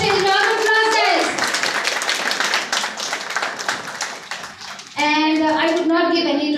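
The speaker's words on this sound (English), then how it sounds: "Round of applause, guys." At an International Women's Day event, an audience claps for the chief guest in a brief burst of scattered hands, framed by a speaker's voice before and after the clapping.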